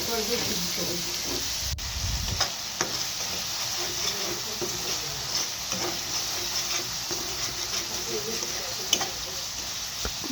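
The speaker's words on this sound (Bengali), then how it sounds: "দেওয়ার পর আমি এটা সুন্দর করে কষিয়ে নিব যেন মশলাটা সুন্দর করে মিশে যায়" Spice masala for chicken curry, with ground meat spice and coriander powder, is sautéed in a pan, producing a steady hissing sizzle with occasional spoon scrapes and a brief low thump near the start.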